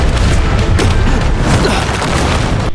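A colossal explosion in an animated fantasy battle, a loud sustained roaring boom with crackling energy filling the whole moment, dense and continuous without any voices.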